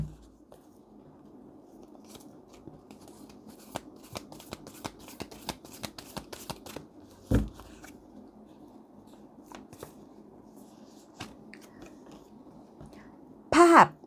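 Oracle cards being shuffled for a tarot reading, a steady run of soft crisp flicks and riffles at close range in a quiet room, ending with a louder rustle.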